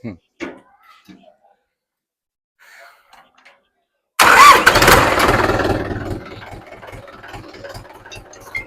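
A 2010 Mahindra 575 DI tractor cranks and fires after a few quiet moments of talk, bursting into a loud diesel roar that settles into a steady, throbbing idle close by.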